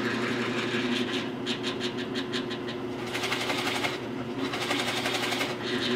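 A Forstner bit bores into wood on a drill, a continuous close motor whine with bursts of chattering cutting as the bit bites in and backs off, no speech.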